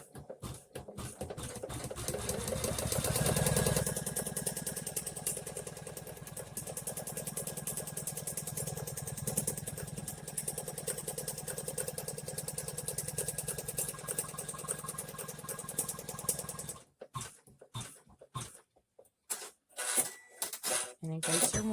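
An embroidery machine runs a placement stitch for clear vinyl on a vaccine card holder design, a steady soft mechanical whir that stops near the end, leaving faint handling noises.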